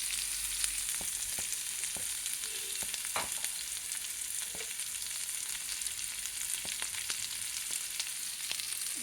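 A curry fries in a pan as salt and chilli powder go in, a steady hissing sizzle with occasional light taps and stirring scrapes, close up with no talk.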